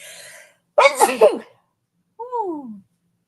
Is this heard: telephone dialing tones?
no